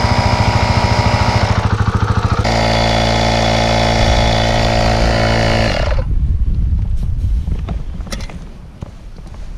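A motorcycle on Shinko 520 tyres, one tyre flat and treated with slime, runs with a loud buzzing engine revving steadily, then drops to a rougher lower rumble as it is ridden along close by.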